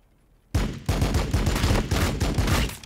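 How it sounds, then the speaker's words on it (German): Rapid bursts of gunfire from Warhammer 40000 Battlesector break in suddenly after a brief quiet and carry on as a loud, dense rattle of repeated shots to the end. "Einmal auf ihn schießen, bitte."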